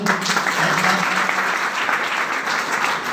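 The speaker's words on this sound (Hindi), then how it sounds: "तो हो जाए जोरदार ताली दोस्तों" Loud, dense clapping from a crowd at a gathering, a continuous roar of hands sustained evenly throughout, close and full, with a faint voice briefly audible at the start.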